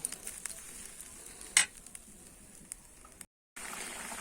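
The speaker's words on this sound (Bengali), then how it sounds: "আমি ঝোলটা ভালো করে ফুটিয়ে নেব" Fish curry gravy with rupchanda (pomfret) bubbles away in a pot, a soft steady hiss with one brief clink partway through and a short silent gap near the end.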